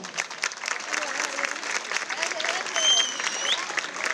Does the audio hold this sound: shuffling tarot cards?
no